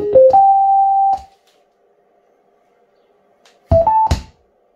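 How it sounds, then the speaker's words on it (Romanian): TDA7492P Bluetooth amplifier module ready tone: a rising run of three electronic beeps with the last held about a second, then silence, then a shorter two-note chime, clean and loud with no talk. "acesta are un sunet prin care spune că este gata de utilizare"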